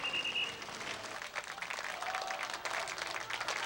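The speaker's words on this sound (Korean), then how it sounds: "시민들은 뜨거운 박수로 환송했다." Citizens applaud departing protesters after a sit-in at a Catholic centre ends, a steady wash of crowd clapping at moderate distance, sustained and fairly even for the few seconds.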